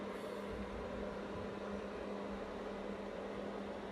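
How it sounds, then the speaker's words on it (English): A steady, even whir of a heating fan running continuously, a constant broadband hum with no breaks or changes. "Sorry about the heating fan. It's decided to come on."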